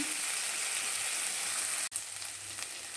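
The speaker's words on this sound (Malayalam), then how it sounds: "ഇത് പച്ചമുളകെല്ലാം ഒന്ന് മാകുന്ന വരെ വഴറ്റി കൊടുക്കാം" Green chillies sauté in a pan of oil for prawn biryani, giving a steady, fairly loud sizzle with a brief clatter near the middle. Nobody speaks.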